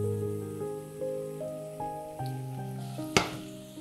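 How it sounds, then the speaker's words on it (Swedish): Diced potatoes for Swedish pytt i panna sizzle steadily in a frying pan, a soft continuous crackle with light stirring taps and a sharper clatter near the end. "Nu gör jag som så här, att jag lägger över den här potatisen här i."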